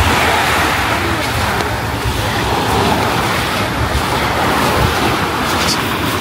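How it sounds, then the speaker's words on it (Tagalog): Ocean surf on a Hawaii beach washing in as a loud, continuous wash of noise with wind buffeting the microphone and no clear breaks between waves. "Ito na yung dagat, guys."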